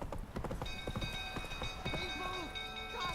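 Galloping hooves of the horse Roach in The Witcher 3 video game make a quick, rhythmic clip-clop, fairly loud, over game music and ambience.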